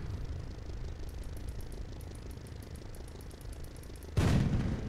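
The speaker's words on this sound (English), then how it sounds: "I made a working gun, a custom gun to be exact." A custom-built 75mm anti-tank gun in the tank-building game Sprocket fires once near the end, a sudden loud blast over a quiet, steady ambient hum, then a short fading tail.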